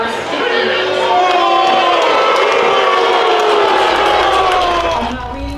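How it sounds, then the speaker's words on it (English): Crowd at an event for Maine Governor Mills, a loud, sustained mass of shouting voices holding steady for several seconds before easing off at the end. "They booed Governor Mills for several minutes, starting before she even took the stage"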